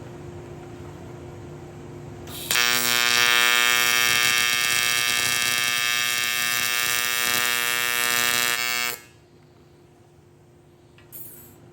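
An arc welder with shielding gas lays filler rod onto a broken Harley chopper kick start cover, giving a loud, steady buzzing hum that starts abruptly, holds for about six seconds, then cuts off to quiet.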